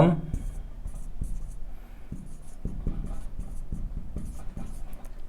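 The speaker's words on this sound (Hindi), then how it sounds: "यहां पे लिख देता हूं" Writing on a board during a lesson, heard as a close run of short, regular scratchy strokes that continue steadily throughout.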